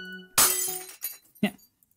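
A vase breaks in the Dicentra gothic horror game, one loud sharp crash of glassy shards followed by scattered tinkling debris and a second smaller impact.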